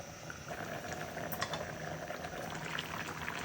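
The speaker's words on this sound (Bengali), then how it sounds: "বলকটা উঠে যাচ্ছে" Loitta fish curry simmering in a covered pot on a lowered flame, soft steady bubbling with faint intermittent pops, quiet and close.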